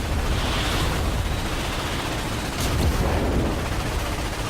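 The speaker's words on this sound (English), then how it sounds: "Starwatch ion cannon armed." Heavy booming blasts from the Starwatch ion cannon in a Ratchet and Clank space battle, a loud sustained roar of weapon fire with rumbling explosions, no voices.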